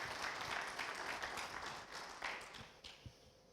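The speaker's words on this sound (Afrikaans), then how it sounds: "Kan ons haar goue hande klap gee?" A church congregation claps for a woman being baptised, a soft, fairly distant patter of applause that thins out toward the end with a few last scattered claps.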